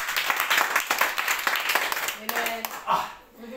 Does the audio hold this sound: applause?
yes